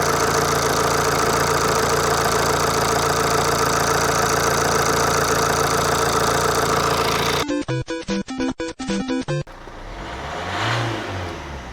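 A Fiat Doblo 1.6 Multijet diesel idles steadily and close by, with an even engine hum for several seconds before clicking handling noises and a faint rustle take over.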